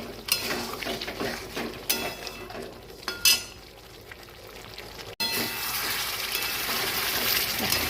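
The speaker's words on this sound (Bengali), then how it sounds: "এবার আমি এতে সামান্য পরিমাণে এই আধা কাপ মতো দুধ দিয়ে দেবো" Half a cup of milk poured into a pan of paneer benarasi and stirred, with steady liquid pouring and spoon-against-pan scraping, then a louder, continuous sizzling wash.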